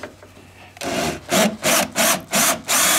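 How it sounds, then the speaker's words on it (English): A handheld drill bites into wood in four or five loud, evenly spaced bursts, each with a rough grinding rasp, after a quiet start, during a coilover and camber plate install on a car. "We're gonna just drill this one out, do the same thing we did over there."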